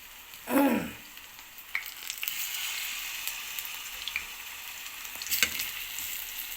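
Oil sizzles and crackles steadily as bananas fry, with a couple of louder clattering bumps near the start and end.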